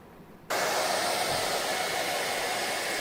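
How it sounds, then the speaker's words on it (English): After half a second of quiet room tone, a hair dryer snaps on and blows air at a paper wing, a steady, loud, close whoosh that holds unchanged to the end. "when we turn on the hairdryer and blow air towards the paper wing"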